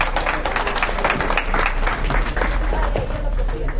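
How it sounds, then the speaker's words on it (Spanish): A crowd at a ceremony marking the International Day for the Elimination of Violence Against Women claps in a brisk, sustained burst of applause, close and fairly loud throughout. "Fuerte los aplausos también para ella."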